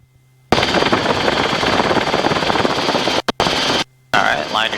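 Helicopter flying in on its approach to a landing area, a loud, steady broadband rotor and engine roar close by, cut by a few brief dropouts, with a short voice heard near the end.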